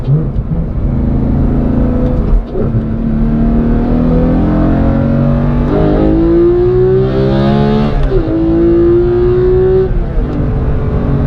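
A Porsche 991.2 GT3 with a manual gearbox accelerates hard on a country road, its engine rising in pitch through rising, loud rev sweeps with a brief shift break between pulls, heard from inside the car.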